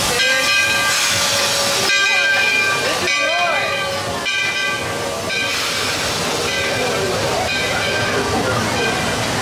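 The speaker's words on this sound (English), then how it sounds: "So we decided to take a moment and chill on the train." The steam train ride at Disney World's Magic Kingdom rolls along with a loud continuous hiss and rumble, layered with tonal whistle-like sounds, while people talk throughout.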